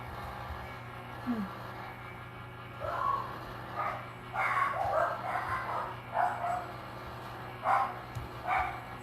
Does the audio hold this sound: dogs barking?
yes